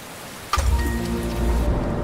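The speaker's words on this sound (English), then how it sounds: "It's raining." Rain in the Len's Island video game begins abruptly after a quiet moment, then continues as a heavy, steady downpour with a low rumbling undertone, with no talking.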